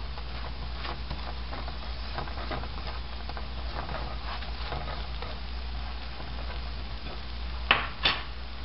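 Oil sizzles steadily under a laccha paratha frying on a pan, a soft continuous crackle with faint scraping and two brief louder clatters near the end.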